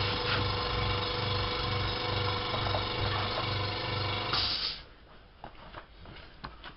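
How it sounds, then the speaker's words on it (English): An air compressor runs steadily with a loud, continuous droning hum and a pulsing low rhythm for several seconds, then cuts off, leaving a quiet workshop with faint handling noises during work on a Briggs & Stratton 450 S carburetor. "Stick compressor on for a bit."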